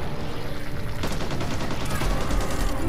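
Dense, continuous automatic gunfire rattles loud and close in the co-op zombie shooter Back 4 Blood, with rapid overlapping bursts and no pause throughout.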